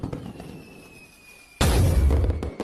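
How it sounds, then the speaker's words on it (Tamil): A Diwali firecracker bursts in a sharp, loud blast after a thin whistling fizz, followed by a crackling, rumbling burst that fills the rest of the moment. "இங்க பட்டாசு வெடிக்காதீங்க"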